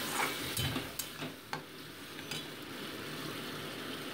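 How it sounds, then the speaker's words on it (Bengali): Ground mustard spice paste with a little water being stirred and sautéed in a pan for sorse jhal with bhola fish, a steady soft sizzle with a few scraping utensil strokes against the pan. "ভালো মতো এটাকে মিনিট 2 কষিয়ে নিচ্ছি আমি"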